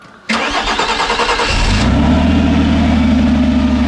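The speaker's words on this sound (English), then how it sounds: "Let's uh, get a cold start." A Renault Clio V6 cold start: a churning starter whirr for over a second, then the engine catches with a loud flare and settles into a steady, rumbling idle, close by.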